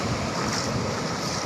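Ocean waves surging across a flooded beach at Tanjung Pakis, a dense continuous roar of surf mixed with heavy wind buffeting the microphone.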